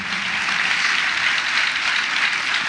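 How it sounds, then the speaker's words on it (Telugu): A church congregation claps together, a dense, steady wash of applause that stays loud and even throughout with no pauses. "హుషారుగా కొట్టాలి చప్పట్లు"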